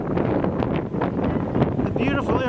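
Gusty wind buffets a microphone on a deck overlooking the Emerald Coast beach at a Miramar Beach wedding venue, a steady close rumble with faint voices underneath.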